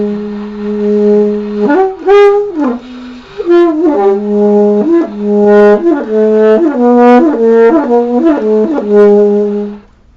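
Cannonball Black Nickel silver-plated soprano saxophone played in its low register, a continuous phrase of repeated low notes with quick upward flicks, close and unaccompanied.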